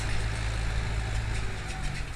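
A New Holland 7556S tractor engine idles and runs steadily with a low, constant rumble, heard close and continuous while pulling an automatic spring-loaded Alpler plough.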